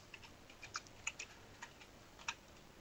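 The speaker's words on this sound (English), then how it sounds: "Bear with me while I type this in." Keys clicking on a Sam Coupé computer keyboard, a faint, sparse run of individual keystrokes with irregular pauses in a quiet room.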